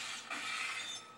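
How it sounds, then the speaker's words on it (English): Glass shattering in Portal 2, a loud, bright burst of breaking glass that spills into tinkling fragments over about a second. "And the glass falls."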